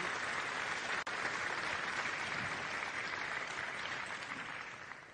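Audience applause at the opening ceremony of the Talents des cités event, a dense, steady wash of clapping from a large crowd that carries on throughout and tapers slightly at the end.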